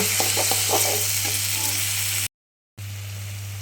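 Tomatoes and onions sautéing in a pan for hotel-style tomato chutney, a steady close sizzle with stirring scrapes in the first half, a brief dropout, then the sizzle resumes.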